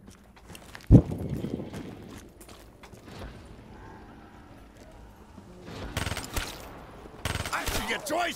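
Gunfire in Black Ops 3 Zombies: one sharp, loud shot early on, then dense crackling bursts of rapid fire toward the end, over a low, busy game backdrop.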